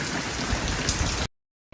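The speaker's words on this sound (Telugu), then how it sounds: "బయట వర్షం పడుతుంది" Steady early-morning rain pours down on a farm, a dense hiss of drops on a hard surface, then the sound cuts out briefly before resuming.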